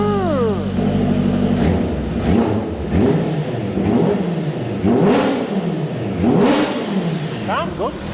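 An H2 supercharged Mini engine revs repeatedly, close and loud, with the pitch climbing and dropping in several rising and falling sweeps and a whine on top. People talk over parts of it.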